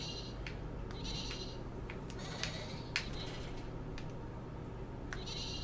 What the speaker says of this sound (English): Yep, it is indeed Shaun the Sheep.